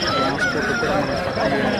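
Roosters crow and squawk at a busy poultry market in Peeleru, loud and close, with crowd murmur and other birds mixed in.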